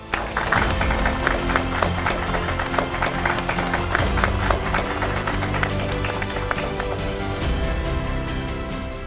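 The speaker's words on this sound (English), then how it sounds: "So let's welcome Rohan Ketkar with a huge round of applause." Audience applause welcoming a top NEET exam achiever at an event, a dense continuous clatter of clapping with a crowd murmur and music-like tones underneath, sustained throughout.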